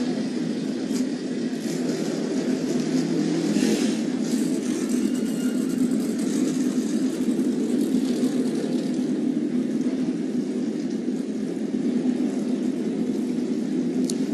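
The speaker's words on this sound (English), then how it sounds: "Engines are fired up," Ethanol-fuelled stock car engines fired up at the start of the 2017 Pocono Green 250 race make a loud, dense, continuous roar and drone that hardly changes for the whole stretch, with no talking over it.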